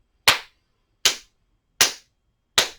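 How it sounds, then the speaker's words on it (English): Four sharp, single hand claps sound at evenly spaced intervals of under a second each, crisp and close, with silence between them, marking a breathing count during a chair yoga session. "I'm going to clap my hands for the count of 4 and clap my hands for the count of 5"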